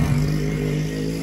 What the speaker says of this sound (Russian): И здесь, оказывается, еще есть мотоциклы тоже.